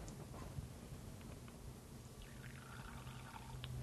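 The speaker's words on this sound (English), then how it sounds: "Then I'm going to add in a 1/2 ounce of lime juice." Half an ounce of lime juice poured into a cocktail: a soft, continuous trickle of liquid, faint under steady background noise, with small splashy clinks toward the end.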